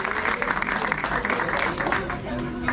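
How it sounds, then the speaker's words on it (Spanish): Crowd at a Spanish-language freestyle rap battle clapping and cheering in a dense, steady wash of applause, with a voice shouting over the noise. "¡Fuerte el aplauso, mi gente!"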